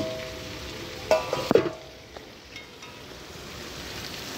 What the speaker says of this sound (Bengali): মাংসটা ফুটে যাচ্ছে তোজোবাবুর